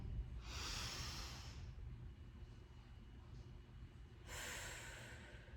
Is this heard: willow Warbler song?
no